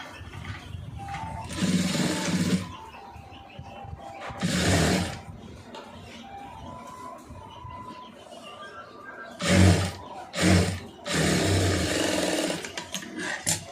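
A sewing machine runs in several bursts while a neckline is stitched, loud whirring spells separated by quieter pauses with handling noise.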